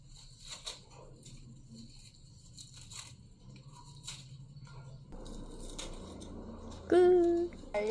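Dried freshwater laver, crisp and brittle, crunches and crackles in short dry bursts up close. A brief tonal sound follows near the end.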